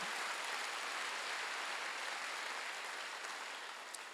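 Applause from a church congregation during a Wednesday worship service, an even, continuous hiss of many hands clapping at moderate distance, fading slightly toward the end.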